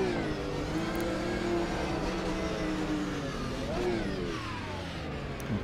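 A GT3 race car's engine howls steadily at the Spa circuit in Automobilista 2, a continuous loud drone with rising and falling pitch as the driver works through the gears.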